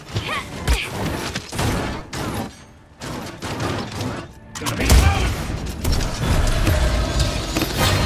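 Incoming gunfire during a multiplayer video game battle, loud, cluttered bursts of shots and impacts with mechanical clatter, pausing briefly around the middle before resuming heavier, with in-game voices calling out over it.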